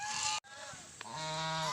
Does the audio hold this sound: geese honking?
yes